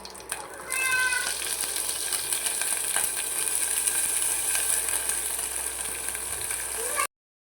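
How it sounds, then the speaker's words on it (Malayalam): Okra (vendakka) fries in a pan with a steady, close, bright sizzle that continues unbroken after a short high-pitched cry at the very start. "നമുക്ക് വെണ്ടക്ക ഒന്ന് വറുത്തെടുക്കാം കേട്ടോ"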